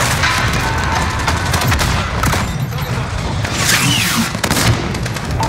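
Heavy sustained gunfire and explosions from a fire mission in Call of Duty Modern Warfare, a dense, loud, continuous barrage of rapid shots and booms with no pauses.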